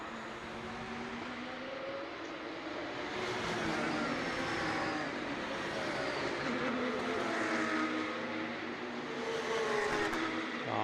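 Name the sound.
Porsche Cup race cars driving on track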